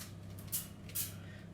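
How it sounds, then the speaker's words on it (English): Two short hissing squirts of spray go into a Yule log cake tin, spaced about half a second apart over a low, steady background hum. "I'm going to give a little squirt inside."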